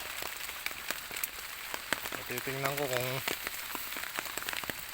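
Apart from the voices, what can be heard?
rain falling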